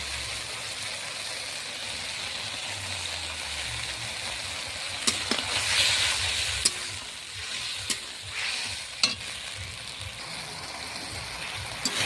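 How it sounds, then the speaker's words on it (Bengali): Spice masala sautéing in a pan, a steady close sizzle with occasional scrapes and taps of stirring, no talk. "এবার এই মশলাটা আমি সুন্দর করে কষিয়ে নেব"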